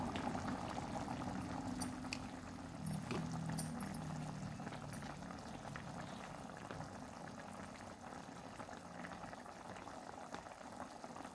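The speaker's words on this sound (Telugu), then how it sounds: "కర్రీ ఉడుతుంది" Mutton curry boiling in a pot, a steady low bubbling and simmering with faint occasional clinks, quiet and continuous throughout.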